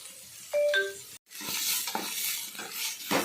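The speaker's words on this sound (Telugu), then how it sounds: "చూసారా చక్కగా పప్పులు వేగిపోయినాయి" Lentils fry and sizzle in a pan for a potato curry with little oil while a spoon stirs them, making a steady close hiss broken by scraping strokes and a short clink near the start.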